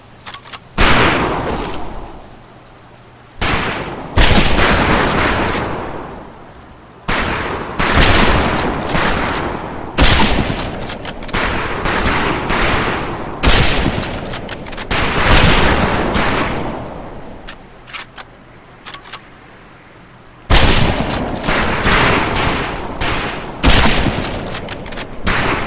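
Rifle fire on a firing range in the Medal of Honor Pacific Assault video game, loud close shots cracking out in an irregular string of single reports and quick bursts, with ringing tails between them for almost half a minute.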